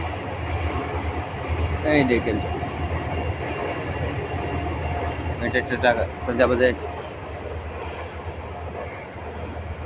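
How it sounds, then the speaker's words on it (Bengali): A train rumbles past with a continuous low roar and rhythmic rattling, while a person talks briefly over the noise. "দেখেন, এই দিক দিয়ে এখন ট্রেন যাচ্ছে।"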